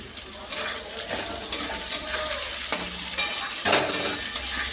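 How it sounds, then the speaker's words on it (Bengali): Potatoes fry in a pan with turmeric and salt, making a close, steady sizzle broken by repeated sharp scrapes of a spatula stirring them, several in a row at an uneven rhythm. "এবার আলুটা একটু ভাজা ভাজা হোক।"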